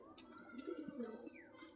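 A pigeon coos softly a few times nearby, with faint chirps and quiet background noise.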